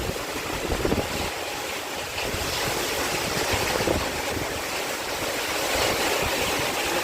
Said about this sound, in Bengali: এত জোরে হাওয়া আর বৃষ্টিও পড়ছে